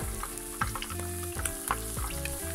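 Fish frying in hot oil on a Portuguese quinta, a steady close sizzle broken by occasional clinks and stirring noises, with no voices.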